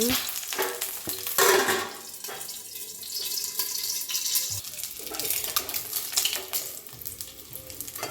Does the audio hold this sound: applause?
no